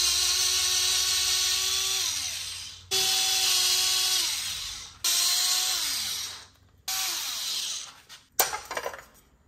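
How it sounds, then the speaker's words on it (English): Power driver spinning out the spark plug cover bolts on a BMW K1200LT motorcycle with a 5mm Allen bit, four long high-pitched whining runs, each dropping in pitch as it winds down, then a short rattle. "with a 5mm Allen, we're gonna go ahead and remove the spark plug cover here"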